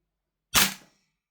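A single sharp shot from a DE Noveske Ghetto Blaster airsoft rifle, a Marui MWS clone, firing 0.2 g BBs: one loud, close crack with a short fading tail, alone in silence.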